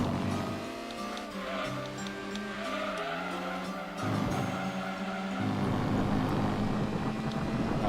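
Race car engine in Gran Turismo 2 on the Laguna Seca circuit, a continuous loud drone with shifting pitch and a brief tire squeal, the tone changing sharply partway through as the engine note rises.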